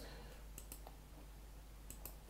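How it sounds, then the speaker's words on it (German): Faint computer mouse clicks, a few light taps in two small clusters, heard alone against a quiet room hum. "muss hier oben klicken."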